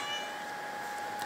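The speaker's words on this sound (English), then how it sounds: "And here's my kitty." A pet house cat meows faintly indoors beside an electronics workbench, a drawn-out, steady tonal call lasting about a second under a low background hum.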